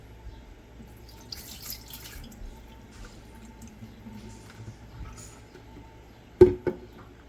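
Dirty water pours and drips out of the tank of a Dreame H15 Pro wet-dry vacuum, soft and close, ending with a louder splash and clunk.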